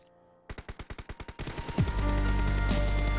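Automatic gunfire in PUBG Mobile: a rapid, evenly spaced burst of about ten loud shots, then a denser, sustained roar of fire and echo.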